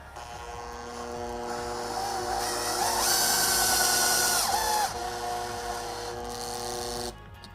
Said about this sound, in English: I'm going to put one little screw down in here to tack this into place.